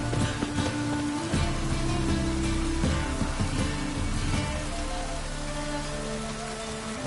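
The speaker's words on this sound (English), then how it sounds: "Must like the rain, that one." Steady, dense rain falls throughout a scene in the video game The Witcher 3, a loud continuous hiss with faint musical tones underneath and no speech.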